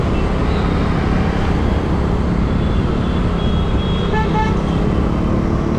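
Dense, steady road traffic on a busy Mumbai street heard from a bicycle, a loud continuous roar of engines with a few short car horn toots cutting through near the end.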